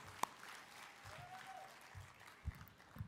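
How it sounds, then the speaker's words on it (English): A brief burst of audience applause at the Northern California Area Emmy Awards ceremony, faint and distant in a large hall, with scattered claps and light room noise. "So I want to recognize John Lynn right now with a round of applause"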